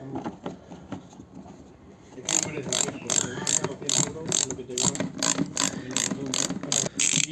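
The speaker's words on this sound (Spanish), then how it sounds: "con una 20 de Thor y un destornillador de cruz vamos a quitar los tornillos que tenemos por debajo del paragolpes" A hand ratchet clicks rapidly in quick repeated bursts while a T20 Torx bit backs out screws beneath the front bumper of a Citroen Xsara HDi, heard up close after a quieter opening.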